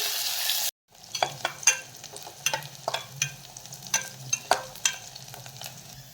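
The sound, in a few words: sliced onion and bay leaf sautéing in a pan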